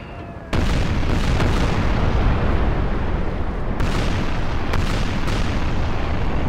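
Warship cannons firing chain shot in a Napoleon Total War naval battle: a sudden loud booming barrage starts after half a second and rolls on as a dense, continuous roar, with further sharp blasts cutting through near the end.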